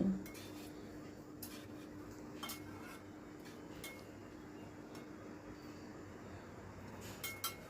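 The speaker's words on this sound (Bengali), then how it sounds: "সব কিছু আবারও ভালো করে মিশিয়ে নিচ্ছি" A spoon stirs and scrapes through fish curry with ghee, garam masala and kasuri methi in a pan, giving soft close clinks and taps of metal on metal over a low background hum.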